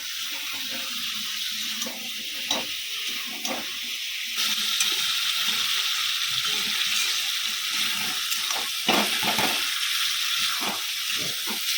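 Food sizzles and fries in a home kitchen, a steady bright hiss with scattered pops and clinks of cookware, continuous and fairly close.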